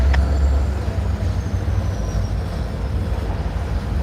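CSX or Norfolk Southern freight locomotives, numbers 6126 and 6419, roll past a trackside overlook with a loud, continuous low rumble that holds steady throughout.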